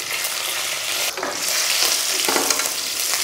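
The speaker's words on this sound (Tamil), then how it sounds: "எண்ணெய் சூடானதும் 1 ஸ்பூன் கடுகு சேர்த்துக்கலாம். கடுகு நல்லா பொறிட்டோம்." Mustard seeds and chillies crackle and sizzle loudly in hot oil close by, a dense steady hiss lasting a few seconds with no speech.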